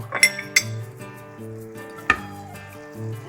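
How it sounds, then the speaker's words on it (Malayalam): A spoon stirs chili powder into butter chicken masala in a pan, giving a few sharp metallic clinks against the rim over a soft, low background hum, close and unaccompanied by speech. "ഇതൊന്ന് നല്ലപോലെ ഇളക്കി യോജിപ്പിക്കാം."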